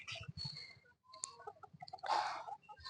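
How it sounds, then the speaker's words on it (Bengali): Chickens and a rooster for sale, a black hen and a black fighter cock among them, cluck in scattered short bursts up close, with clicking and rustling between calls and a louder flurry near the end. "এই মুরগিটা বিক্রি আছে, কালোটা। এই মোরগটা বিক্রি আছে।"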